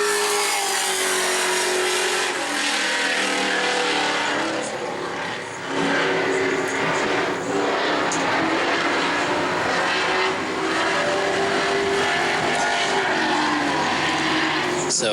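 Sportsman race car number 52 at New Smyrna roars past on a qualifying lap, its loud engine note rising and sustained for the whole stretch, with a brief dip midway and a public-address announcer speaking over it.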